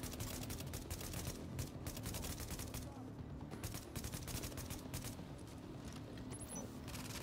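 A deployed turret in The Division video game fires dense, continuous automatic rounds. The rapid bursts run loud and unbroken through the whole stretch, with a brief lull in the middle and battle noise around them.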